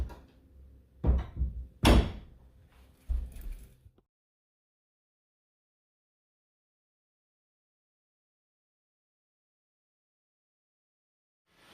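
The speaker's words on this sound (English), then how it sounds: "Now we'll shut these doors." Several household doors are shut in quick succession, a cluster of close thuds and latch clicks over a few seconds, followed by a long stretch of near silence.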